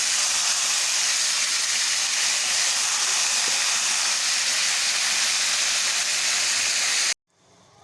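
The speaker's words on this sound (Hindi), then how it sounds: "मैं इतना तेल लूँगी जिसमें बस ये फ्राई हो जाए। तो आप चिकन को बीच में डाल दें।" Chicken sizzles in shallow oil with a loud, steady, broadband hiss that runs unbroken for about seven seconds, then cuts off abruptly into near silence.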